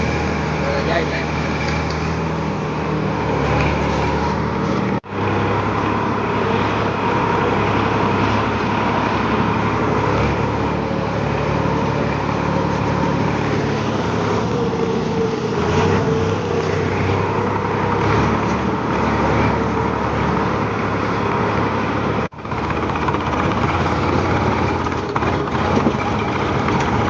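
A tractor engine runs steadily on a village track, a continuous close droning rumble that holds for the whole stretch with only two brief dropouts.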